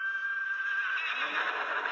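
A single drawn-out horse whinny in The Simpsons: Tapped Out mobile game, a clear, high, wavering neigh heard alone that drops lower toward its end.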